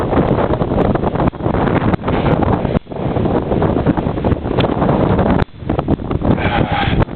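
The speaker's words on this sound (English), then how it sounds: "it's very windy out here." Strong wind gusts outdoors during a February snowstorm, buffeting the microphone in a loud, continuous roar with brief dips and surges.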